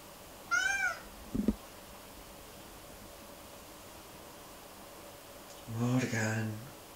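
A cat meows twice, a short high call near the start and a longer, louder one near the end, with a faint bump in between over a quiet hiss.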